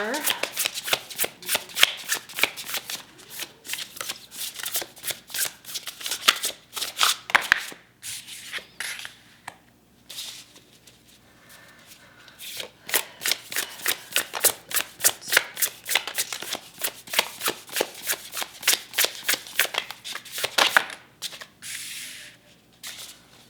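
Tarot cards are riffled and shuffled in rapid repeated bursts of crisp flicking and rubbing, pausing briefly midway before continuing, with a voice speaking over parts of it.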